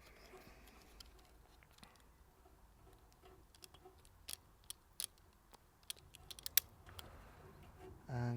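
Wire cutters or snips cut through trailer light wires, a series of sparse, sharp clicks and snaps against a quiet background, close but soft, ending with a brief low thump.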